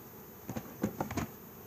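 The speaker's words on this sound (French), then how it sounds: "il y a des abeilles dedans" Honey bees buzz around a beehive feeder in a few short, faint passes over a low background hiss.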